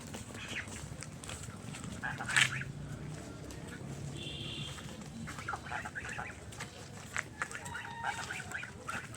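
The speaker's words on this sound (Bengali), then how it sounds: "ওনার সাথে সাথে হাঁসগুলো কিন্তু বাড়িতে চলে যাইতেছে" Ducks quack faintly and intermittently as they walk home alongside their owner in a rural village, with soft background noise and a few louder calls.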